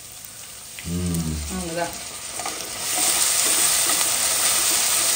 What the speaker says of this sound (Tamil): இஞ்சி பூண்டு பேஸ்ட்டும் நல்லா வந்து வதங்கிடுச்சு